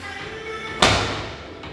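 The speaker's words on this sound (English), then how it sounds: "Somebody doing ball slams." A single heavy medicine ball slam thuds loudly onto a gym floor, a sharp impact that rings out briefly against steady gym background noise.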